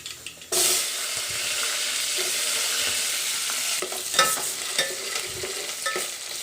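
Mustard seeds, cumin and sambar onions hit hot oil with a sudden loud sizzle that holds steady, while later stirring adds sharp scraping clicks and crackles; no one speaks.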